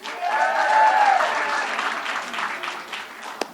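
An audience at a YMCA gathering applauds Governor Cuomo with loud, full clapping that swells and then gradually thins out, ending with a single sharp knock.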